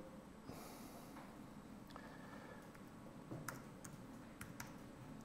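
Someone types a search keyword on a computer keyboard, producing sparse, irregular clicks and taps over a steady room hum, fairly faint and without any talking.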